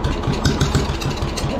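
An old tractor engine, flooded after sitting for over ten years, cranks and sputters briefly, giving a steady low chugging with faint pulses of firing, close and fairly loud throughout.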